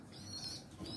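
Pigeons in an indoor fancy pigeon loft flap their wings, a brief close flurry of fluttering beats with no talking.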